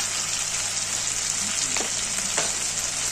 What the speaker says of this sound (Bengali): একটু কাশ্মীরি লঙ্কার গুঁড়ো দিয়ে মশলাটাকে ভালো করে কষিয়ে নেব